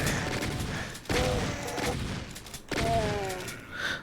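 Heavy blasts of the super shotgun in Doom II, two loud close shots about a second and a half apart, each followed by a mechanical reload clatter and game noise.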